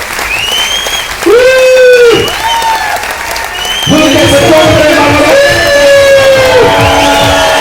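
Loud, sustained applause from a crowd at a business seminar in Hyderabad, with whoops and shouted cheers rising over the clapping throughout.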